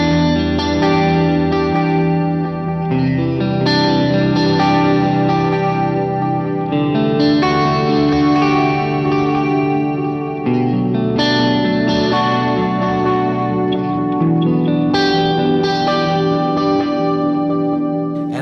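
An electric guitar run through a pedalboard with chorus engaged plays sustained, shimmering chords and arpeggios, loud and continuous for the whole stretch, with no voices.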